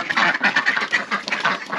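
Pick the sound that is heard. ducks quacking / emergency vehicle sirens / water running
ducks quacking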